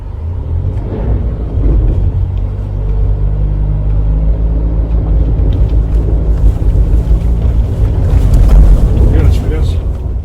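Ford EcoSport Titanium three-cylinder engine starting and running on a steep incline, a loud low rumble that swells slightly and holds steady, with wind noise on the microphone.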